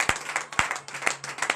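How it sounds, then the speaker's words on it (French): Applause rises from a congregation at a morning church prayer service, with a few loud, sharp claps standing out over a quieter spread of clapping hands and no speech. "Donnez l'acclamation à notre Seigneur."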